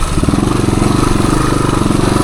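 A 1978 Suzuki DR370 motorcycle engine runs close by with a loud, even, rapid thumping pulse that holds steady throughout.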